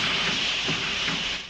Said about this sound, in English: "I am a really splendid engine," he thought, and suddenly let off steam.